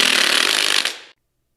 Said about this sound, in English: I'm relying on my driver to get it nice and tight